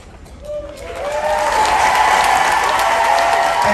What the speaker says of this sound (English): give them a huge, huge round of applause